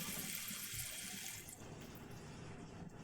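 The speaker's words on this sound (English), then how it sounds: "I'm going to add a little bit of water in here" Tap water runs steadily into a cooking pan while a flatiron steak and potatoes meal is being prepared, a continuous hissing splash that eases off midway and carries on more softly to the end, with no talk.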